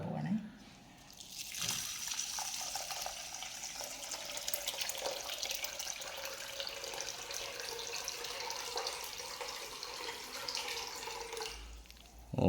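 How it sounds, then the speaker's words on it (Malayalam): Water pours steadily into a vessel of soaked grains for dosa batter, a continuous close splashing stream that begins after a brief handling noise and cuts off near the end. "അപ്പം അതിൽ നമ്മൾ വെള്ളം ഒഴിക്കാൻ പോവാം കേട്ടോ"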